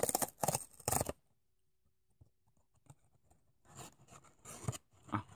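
Crinkly plastic wrapping of an Orion Choco Pie being torn open, loud rustling at first, then a quiet gap with faint handling, then more crackling near the microphone.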